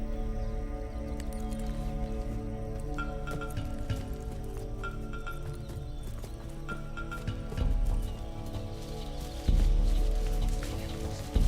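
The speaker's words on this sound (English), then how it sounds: "This is Lloyd Cobb's horse" Hooves clip-clop steadily on a hard surface for several seconds, with a few louder thumps near the end and a faint whinny mixed in.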